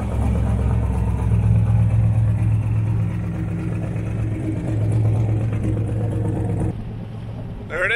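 A twin-turbo LSX-powered Buick Skylark rumbles loudly and low as it rolls away from a car show, its engine note holding steady with slight rises in revs before the sound drops away near the end.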